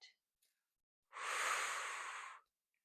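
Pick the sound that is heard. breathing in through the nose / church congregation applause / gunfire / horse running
breathing in through the nose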